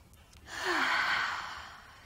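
One slow, deep breath drawn and released close by during a quiet Pilates abdominal session, a soft airy swell that rises and fades over about two seconds.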